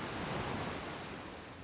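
Waterfall in the video game Outer Wilds, a steady broad rushing roar of falling water, even and continuous throughout with no voices.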